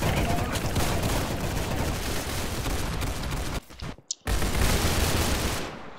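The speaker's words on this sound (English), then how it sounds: "There are so many gunshots." Dense, continuous video game gunfire with overlapping rapid shots and bursts, loud and chaotic, briefly cutting out before resuming.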